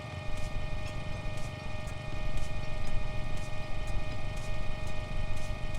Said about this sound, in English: And now we actually hear the engine noise for some reason